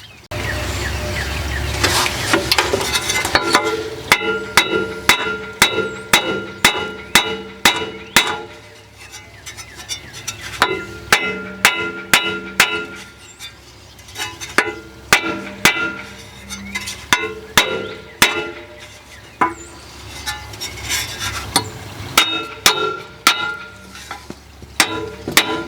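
Repeated sharp metallic hammer strikes on a Ford F600 water pump in an irregular rhythm, loud and close, with ringing clangs between blows and no talking.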